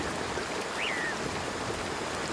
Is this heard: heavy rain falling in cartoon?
yes